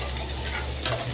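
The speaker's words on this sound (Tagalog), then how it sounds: "magigisa na tayo" Oil sizzles and crackles in a hot pan as sautéing begins, a dense, continuous frying hiss close by with a brief louder flare near the end and no speech.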